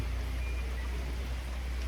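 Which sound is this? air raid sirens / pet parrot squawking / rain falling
rain falling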